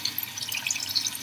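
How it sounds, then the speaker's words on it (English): Tap water runs into a tomato container as it is rinsed, a short, steady splashing hiss close to the microphone. "So I'm just going to rinse this out."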